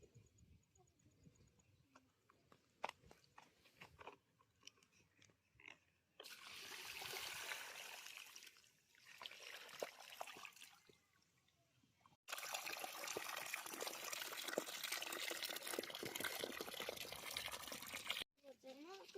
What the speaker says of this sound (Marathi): पाणी घालून झालेलं आहे झाडांना